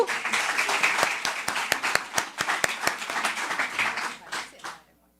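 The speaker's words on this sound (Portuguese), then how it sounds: "Uma salva de palmas para essa mesa" An event audience claps for a panel, a dense burst of many hands applauding steadily for several seconds before thinning to a few scattered claps and fading out.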